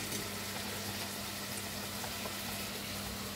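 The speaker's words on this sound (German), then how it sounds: "Oh, brutzelt schon." Duck sizzles in a Römertopf clay roaster, a dense, steady hiss and crackle that stays even and fairly close throughout.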